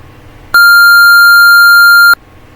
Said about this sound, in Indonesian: Ini nyala, buzzernya bunyi.